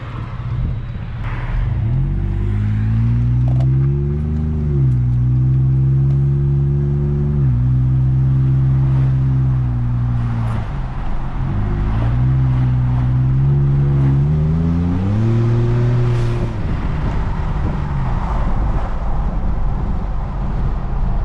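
A Ford F-150 pickup with the 3.5 EcoBoost engine, heard through its exhaust while driving, hums in a steady low rumble, rising and falling in pitch as it speeds up and shifts gears repeatedly over about twenty seconds.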